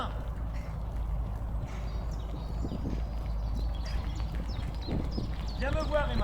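A horse walks at a steady pace in an indoor riding arena during a riding lesson, its hooves clip-clopping softly beneath a riding instructor's continuous coaching voice.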